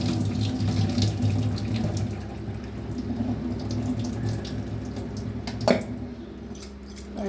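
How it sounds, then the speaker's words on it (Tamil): Ingredients for a Chettinad ukkarai sweet are washed under a running tap, water pouring steadily into a vessel with squishy rinsing sounds and a brief clink partway through. "ஒரு கழுவு நல்லா கழுவி விட்டுருங்க."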